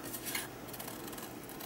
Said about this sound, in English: what I can do is I've got some scissors.